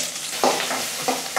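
Ginger-garlic paste fries in a pan under a steady close sizzle, broken by a few brisk stirring scrapes.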